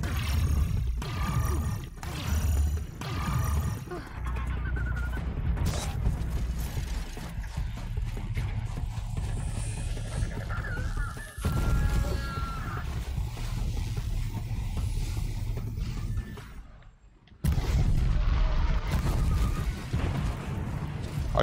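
Combat against a machine bird in Horizon Zero Dawn: The Frozen Wilds, loud continuous roaring mechanical cries, booms and impacts over rain and wind, with brief dropouts.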